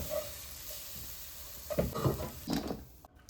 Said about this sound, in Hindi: उसमें फिर से छोटी आधी चमची घी की डाली और इसमें ऐड कर दिए अपने कटे हुए अंजीर।